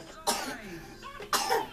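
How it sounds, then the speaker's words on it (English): A child coughs indoors in the evening, two separate harsh coughs about a second apart, close to the microphone and loud, with no talk over them. "What's this cough you've got tonight?"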